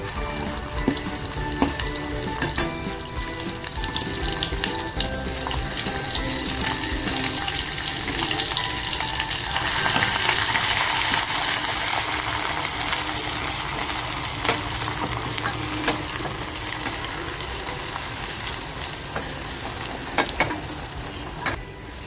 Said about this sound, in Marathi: बघा लसूण छान तेलात तडकली ना कि मसाला टाकायचा